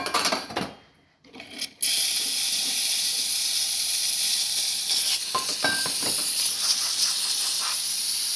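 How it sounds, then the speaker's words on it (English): Steam wand on a Euro 2000 espresso machine hissing loudly and steadily after a brief sputtering start, a strong continuous rush of steam that holds to the end with small clicks along the way. "Nice strong steam."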